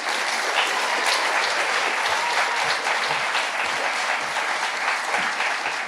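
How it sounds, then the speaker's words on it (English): An audience at a poetry reading claps steadily after the reading ends, a full, sustained round of applause from a sizeable crowd that goes on throughout without pause. "One more round of applause for Alexandra Oliver"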